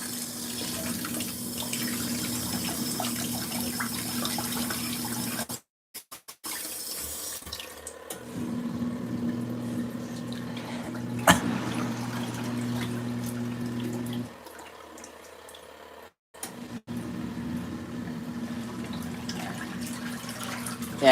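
LG ThinQ MEGA washing machine filling with water, a steady rushing stream with a low hum that cuts out briefly twice and then resumes.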